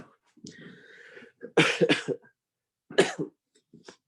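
Several harsh coughs up close, in short bursts separated by pauses, with a quieter throat sound at the start and no talking.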